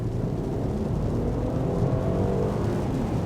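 A 2016 Mercedes-Benz GLE500e plug-in hybrid accelerates at full throttle onto a main road, its engine and road noise forming a loud, steady, low roar heard from inside the cabin.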